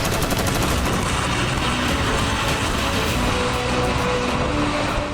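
Explosions and gunfire from Russian attacks in Ukraine, a dense continuous roar of blasts and crackling fire heard loud and sustained without speech.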